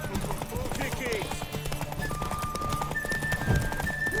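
Horse hooves clip-clopping in the Witcher 3 video game, a steady run of hoofbeats mixed with game music and effects, with a short whinny and someone talking over it.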